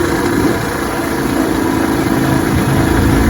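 A restored vintage Evinrude outboard motor runs for the first time in about 70 years, giving a loud, steady, even drone that holds without a break from start to finish.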